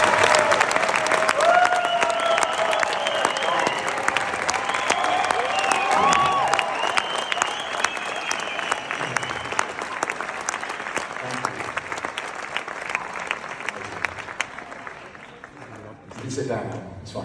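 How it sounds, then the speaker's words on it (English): A large audience at a franchise awards event breaks into loud, sustained applause that carries on for well over ten seconds with a few cheers mixed in, then fades out. "So the biggest round of applause, please"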